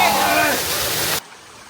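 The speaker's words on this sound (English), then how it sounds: "Oh, that's a waterfall?" A waterfall along a hiking trail in Costa Rica roars as a broad, steady rush of water, loud and close, with voices talking over it before the sound drops away sharply.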